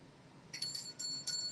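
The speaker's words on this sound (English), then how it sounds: "Ring it. Ring the bell" A pet parrot rings a small bell three times in quick succession, bright metallic tings close by over quiet room hiss.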